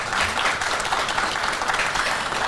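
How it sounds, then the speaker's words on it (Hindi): Audience at a conclave in Banaras claps loudly to welcome a guest, a steady, dense round of applause that holds at full strength throughout. "जोरदार तालियों के साथ उनका स्वागत है।"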